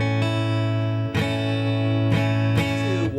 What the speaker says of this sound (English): A major sounds like this.